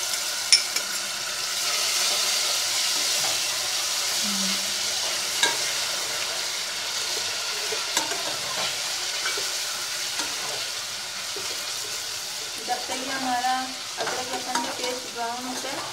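Ginger garlic paste frying with onions while being stirred, a steady close sizzle with spoon scrapes and rustling stirring strokes, busier toward the end.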